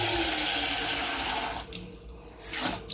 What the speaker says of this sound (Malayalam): 2 കപ്പ് വെള്ളം ഈ പാത്രത്തിൽ എടുത്തു